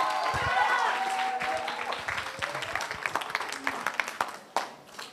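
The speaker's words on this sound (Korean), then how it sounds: "큰 박수로 모시겠습니다." An audience at a high school academic presentation applauds loudly, the clapping fading into scattered claps while a voice speaks over it.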